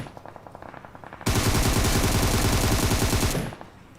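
An M16A4 rifle fires in BGMI gameplay: faint shots first, then a loud, dense stretch of rapid automatic fire lasting about two seconds before it cuts off.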